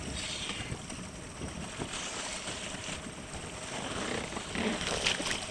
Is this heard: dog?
no